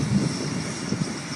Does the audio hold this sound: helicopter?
yes